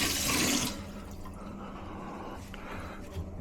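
A ladle is dropped into water in a home kitchen while rajma chawal is being cooked, making a short, loud splash and slosh. A few soft drips and faint kitchen noise follow, with no voices.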